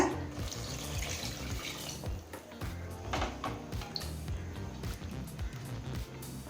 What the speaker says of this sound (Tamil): இப்போ அடுத்து 2 கப் தண்ணி சேர்த்துக்கலாங்க